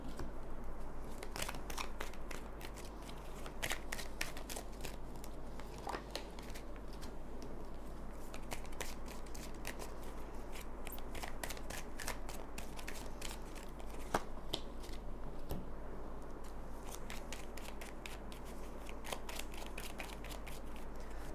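Tarot cards being shuffled in a steady stream of soft riffling and crisp snapping, faint and close against a constant low hum.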